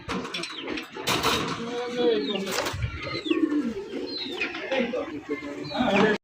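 Fancy pigeons, racer and gola giribaj breeds kept for sale, coo and call repeatedly at close range, with other birds chirping around them and someone talking over the birds throughout.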